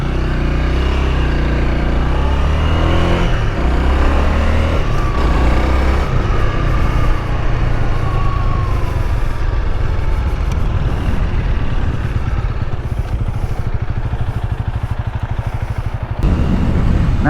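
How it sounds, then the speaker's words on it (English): A Honda Rebel 300 motorcycle with reversed mirrors out on a road ride, its engine droning loud and continuous under heavy wind rush, the pitch shifting as it accelerates and settles. "let's go ahead and take it out for a little spin"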